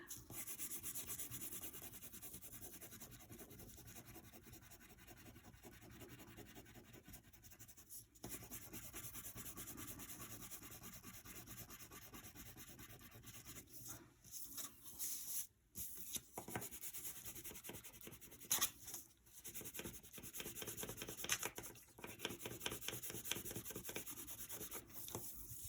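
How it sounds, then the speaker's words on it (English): Paper sliding and rubbing on a surface while a cat is being drawn, a continuous scratchy rustle with pencil-like scraping and a few short breaks, close and steady, no talk. "See how I keep moving my paper around?"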